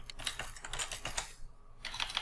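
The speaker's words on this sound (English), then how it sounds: "Again, forgive my typing." Fast typing on a computer keyboard, close and clear, with a dense run of clicking keystrokes, a brief pause, then a few more taps; no talking.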